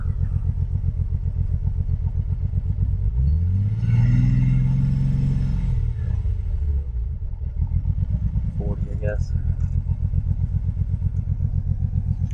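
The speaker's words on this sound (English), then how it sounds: "Let's see what it does when we rev it." A Datsun 280ZX engine, started after sitting two years, idles with a rough, pulsing rumble up close. It swells into a single rev that climbs and falls back midway, then settles into its uneven idle.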